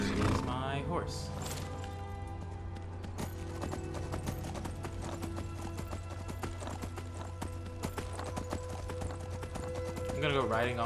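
A horse's hooves clip-clop steadily in the video game Skyrim as the rider crosses rocky cliffside ground, with a brief whinny at the start and someone talking over the hoofbeats.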